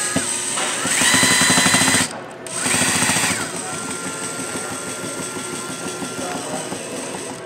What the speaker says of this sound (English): I'm screwing this in.